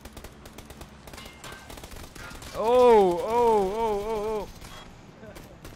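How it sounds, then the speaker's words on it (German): Video game gunfire, rapid bursts of shots crackling in the background while a voice shouts and a loud vocal exclamation rises over the middle of the stretch. "Wir werden beschossen."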